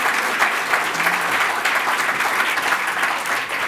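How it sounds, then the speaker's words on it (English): Audience applause at a community arts event in Bankstown, steady dense clapping from a crowd lasting several seconds without a break. "Please give Bryan a round of applause for coming along today."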